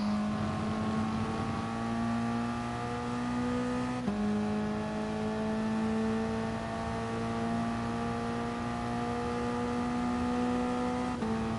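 A Toyota race car in a racing video game at the Catalunya circuit, its engine droning steadily as it climbs through gears, with one audible upshift partway through and no talking.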